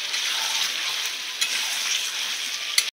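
Loud, close, steady frying hiss of chicken and potatoes sautéing together in a pan, with a couple of faint clinks and no voices.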